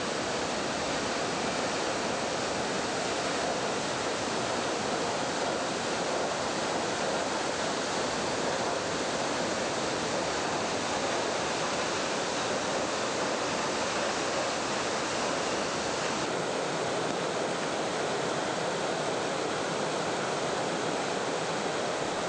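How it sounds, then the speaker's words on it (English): Middleham Falls, a waterfall dropping some 60 meters in Morne Trois Pitons National Park, pours in a steady, loud broadband roar of rushing water that fills the whole stretch without pause. "Middleham Falls is the island's largest waterfall, with water loudly spilling over the falls some 60 meters down"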